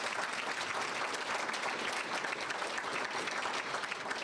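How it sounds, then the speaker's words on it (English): A banquet audience gives a round of applause for degree recipients at an awards event, dense steady clapping sustained evenly throughout without any voices. "So can I have a round of applause for everyone that's here tonight and that has gained that degree?"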